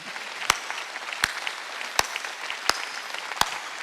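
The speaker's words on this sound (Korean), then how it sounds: "믿어 박수 쳐." Church congregation clapping during a Sunday worship sermon, a steady wash of applause broken by a few sharp, loud claps spaced about every three quarters of a second.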